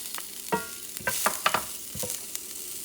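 Onion and peppers stir-frying in a pan over a little below medium heat, a constant crackling sizzle punctuated by quick, irregular scrapes and taps of a spoon, close and without speech.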